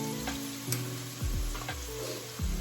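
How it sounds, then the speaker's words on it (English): Onions sauté in a hot pan beside curry tofu, bok choy and cabbage, giving a steady crackling sizzle. A few scraping stirs and low clunks from the pan sound close by. "Now I like these to saute"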